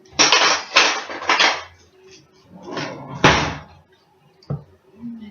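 Metal muffin pans clanking and rattling as they are handled on a hot stove top, several sharp clattering bursts and knocks spaced irregularly, close and loud with quiet gaps between.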